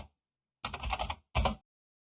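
Parameter typed on a computer keyboard while configuring a MOVITRAC LTE-B+ drive, two short close bursts of key clicks separated by silence.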